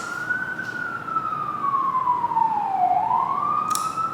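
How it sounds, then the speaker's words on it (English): An emergency vehicle siren wails through New York City streets, one long falling and rising sweep at moderate distance over a steady background of city traffic hum. "If you hear the sirens, I live in New York City."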